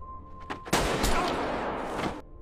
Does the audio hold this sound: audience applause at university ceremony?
no